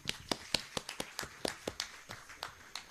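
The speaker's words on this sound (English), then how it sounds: "let us give them a round of applause" Sparse, faint clapping from a small conference session audience, with about a dozen distinct claps spaced irregularly over a few seconds.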